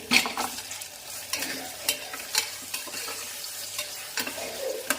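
Tomatoes tipped into vegetables frying in a pan for vegetable pulao, with stirring scrapes and clatter over a steady soft sizzle, close and moderately loud, no talking.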